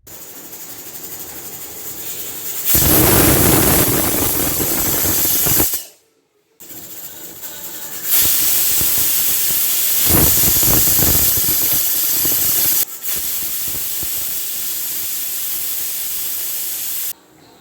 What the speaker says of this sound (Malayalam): കുക്കർ ഒന്ന് അടച്ചു വെച്ച് കൊടുക്കുന്നുണ്ട് തീ ഒരു ഹൈ ഫ്ലെയിമിൽ ഇട്ട് കൊടുക്കാം എന്നിട്ട് ഒരു മൂന്ന് വിസിൽ വരുന്നത് വരെ ഒന്ന് വെയിറ്റ് ചെയ്യാം